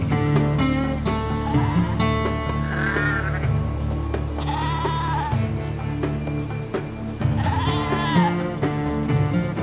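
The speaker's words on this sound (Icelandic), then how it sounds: "Þetta voru fyrstu kindur sem við sáum þarna" Sheep bleat in Iceland, three drawn-out wavering calls spaced a few seconds apart, moderately near, over a busy layer of background music.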